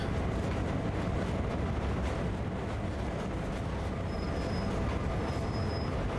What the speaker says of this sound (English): train is gaining some speed.